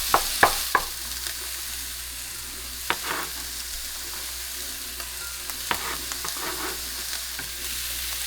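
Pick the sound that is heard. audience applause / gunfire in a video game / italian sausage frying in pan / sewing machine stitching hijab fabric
italian sausage frying in pan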